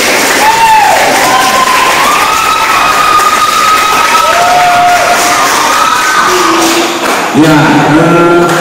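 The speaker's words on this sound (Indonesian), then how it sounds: "tepuk tangan" Students cheer and shout loudly during a school study tour quiz, with a dense steady crowd roar, rising whoops and scattered claps lasting throughout.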